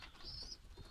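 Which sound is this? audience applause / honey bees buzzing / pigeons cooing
pigeons cooing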